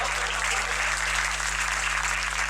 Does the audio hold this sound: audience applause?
yes